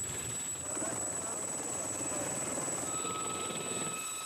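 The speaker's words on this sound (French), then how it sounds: "L'hélicoptère." Special forces helicopter giving off a steady close rotor and engine drone with a high whine above it, loud and constant for a few seconds.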